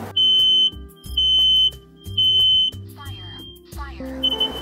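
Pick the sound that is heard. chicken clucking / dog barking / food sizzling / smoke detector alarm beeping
smoke detector alarm beeping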